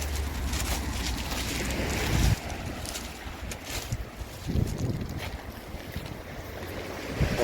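Steady rush of sea waves and surf close by on the coast at Sainte-Maxime in the Var, France, with wind buffeting the microphone and occasional swells of louder water, no voices.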